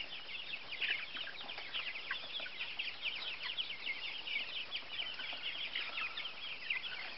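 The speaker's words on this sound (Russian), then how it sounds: "Ну вот этим цыплятам сейчас по времени где-то 45 дней." A flock of 45-day-old chicks of an egg-and-meat breed clucking and cheeping continuously, many overlapping calls over a steady farmyard background, fairly close with no speech.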